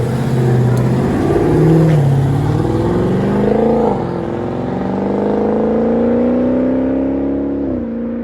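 A 2017 Dodge Charger 6.4L Scat Pack with dual exhaust and the mufflers deleted sits close by, its V8 rumbling loud and deep with slow rises and dips in engine speed and no other sounds.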